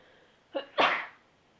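A single person's sneeze, a short sharp intake followed by a loud burst, close and alone in a quiet room.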